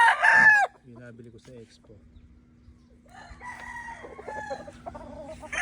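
A 5K Sweater gamecock rooster crows loudly and close at the start, followed by quieter clucks and distant bird sounds while someone talks.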